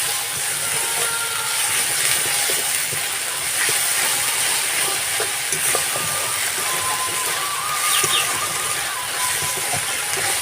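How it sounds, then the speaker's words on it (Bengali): Ginger-garlic paste and spices sizzle steadily as they are fried and stirred in a pan with a little water, a continuous close hiss with faint scraping throughout. "আর জল সামান্য দিয়ে আবার আমি মশলাটাকে ভালোভাবে কষিয়ে নেব।"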